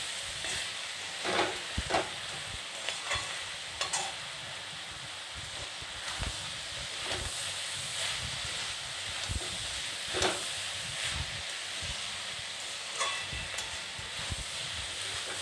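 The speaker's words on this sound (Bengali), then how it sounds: "আরও কিছুক্ষণ এটাকে ভালো করে ভেজে নেব।" Mixed vegetables frying in a pan for pasta, with a steady sizzle and hiss broken by repeated scraping stirs of a spatula at irregular intervals, close and moderately loud throughout.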